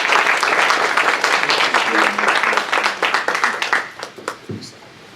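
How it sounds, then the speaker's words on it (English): A crowd applauds at a gathering where a reverend introduces a guest speaker, dense steady clapping from many hands that thins into scattered claps near the end. "Big round of applause, please"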